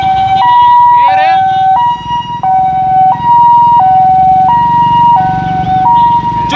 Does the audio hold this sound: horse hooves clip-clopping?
no